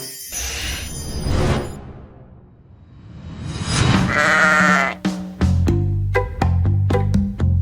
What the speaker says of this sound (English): Here's Sammy, the super sheep.